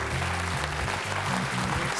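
A large studio audience of several thousand people applauds steadily at a French television quiz show final, with dense, continuous clapping filling the room throughout.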